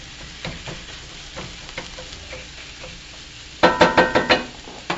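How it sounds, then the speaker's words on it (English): Garlic and ginger sizzling in a pan as a utensil scrapes and taps through them, a soft steady fry under a series of light clacks, with a burst of brisker stirring near the end. "Trying to spread it around to make sure our garlic and ginger doesn't burn as we're cooking along here."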